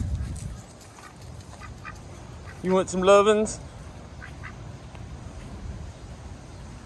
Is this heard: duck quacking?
yes